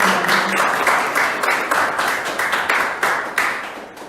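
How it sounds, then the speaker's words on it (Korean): Loud, close applause from a group at a committee meeting, with bursts of clapping rising and fading in waves over a few seconds. "우리 모두 큰 박수 한번 보내주시겠습니다"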